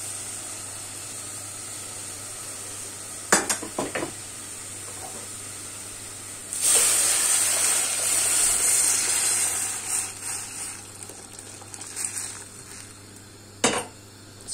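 Spinach sautéing in a pan with onion and mint gives a steady hiss and sizzle that swells midway, with occasional clinks of a utensil against the pan.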